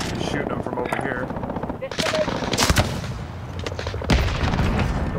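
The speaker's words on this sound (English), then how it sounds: "Just shooting them from over here" Rapid gunfire and bursts of automatic weapons in Call of Duty Modern Warfare, loud and continuous with sharper volleys, over a busy game soundscape, with a player talking at times.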